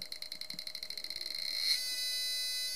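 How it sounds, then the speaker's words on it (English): Passive buzzer driven by an astable 555 timer with a trim pot, clicking in a steady fast rhythm that speeds up until the clicks blur into a continuous high buzz, close and fairly loud with no talk. "When I turn it down, you're going to hear the clicks get a lot faster"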